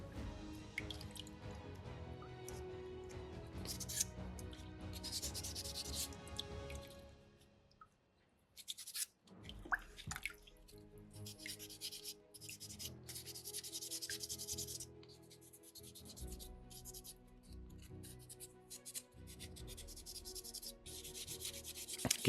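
Sanding a soapstone skull carving from a beginner kit, with steady close rubbing and scratching strokes that run on and off, a short pause midway, then resume in repeated back-and-forth passes.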